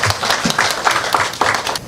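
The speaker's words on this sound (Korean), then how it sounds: "큰 박수로 모시겠습니다" Warm audience applause greeting a painter at a talk concert, a steady wash of many hands clapping with pulsing swells, close and fairly loud.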